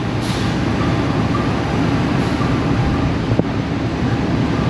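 Tawang Jaya train standing at Semarang station, a steady low rumble and broad hiss filling the platform, with one brief metallic clank near the end.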